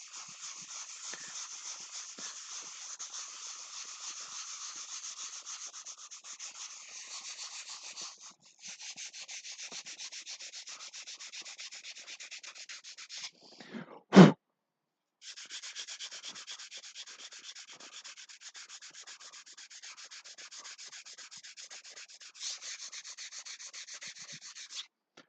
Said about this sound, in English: All right, sand this down.